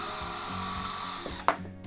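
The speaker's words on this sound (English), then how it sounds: "I'm going to go ahead and drill a very small hole right here without drilling into my desk" A power drill whines steadily as it bores a small hole in a wooden birdhouse on a desk, then cuts off with a short clunk near the end. The sound is close and fairly quiet.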